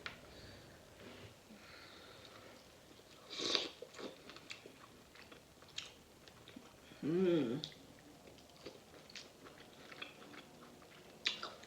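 Lobster tail is eaten close to the mic, with soft chewing and a few sharp crunches of shell, the loudest about two thirds of the way through, amid quiet sniffs.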